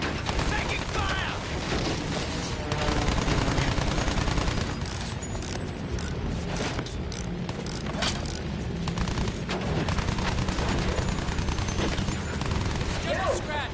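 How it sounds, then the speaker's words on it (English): Dense Battlefield 1 gunfire, rapid machine-gun bursts and booms crackling continuously, with voices shouting over the battle. "Taking fire!"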